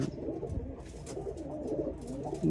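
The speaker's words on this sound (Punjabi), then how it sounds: "ਕਬੂਤਰ ਜੇ ਮਸਤੀ ਵਾਲੇ ਹੋ ਰਹੇ ਨੇ ਯਾਰ" A steady low cooing of several pigeons fills the air nearby, throaty warbles overlapping continuously with no talk.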